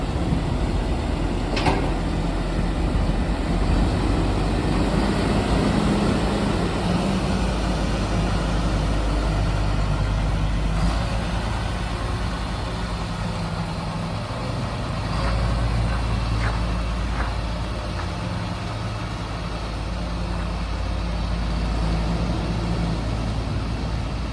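A Claas Axion tractor drives with a hitched crane attachment, its steady engine rumble loud and continuous throughout, with occasional faint clanks on top and no talking.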